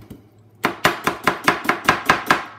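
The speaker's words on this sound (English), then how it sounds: "Slow chops. And make loud noises." A knife chops onions on a cutting board: after a brief quiet start, about nine slow, loud, evenly spaced chops ring out close by.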